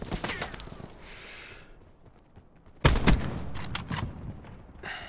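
Bursts of gunfire in Call of Duty: Black Ops 4 multiplayer, a quick flurry at the start, then a loud close burst midway with further scattered shots.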